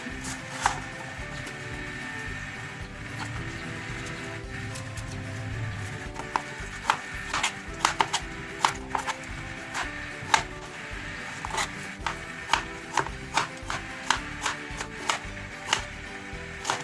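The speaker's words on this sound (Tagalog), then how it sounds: "Susunod nating hiwain ay yung sayote." A knife peels and cuts a chayote (sayote), producing rapid close clicks and taps that start sparse and grow into a quicker, irregular run of sharp cuts over a steady soft background.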